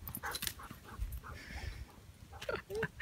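Two 11-year-old dogs pant and whimper in a backyard, with quick, breathy pants and a few high whines close by, mixed with light background chatter.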